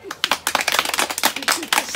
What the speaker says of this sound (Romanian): Să aplaudăm!